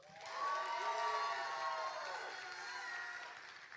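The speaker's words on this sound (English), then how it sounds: "Give another hand for Teresa." A campus Tap Day crowd cheers for an honoree, with sustained whoops and raised voices rising quickly, holding, then slowly tapering, while clapping stays faint underneath.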